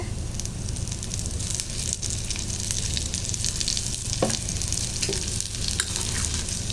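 Colocasia (taro) slices frying in oil on a low flame, a continuous loud sizzle with scraping stirs and a few soft clacks of the spatula, no talking.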